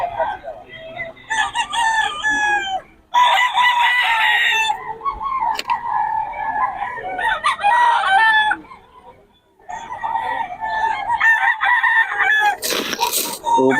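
Fighting cocks at a seller's yard in Pampanga, several loud roosters crowing in long overlapping calls with clucking between them, all close by, while someone talks in the background.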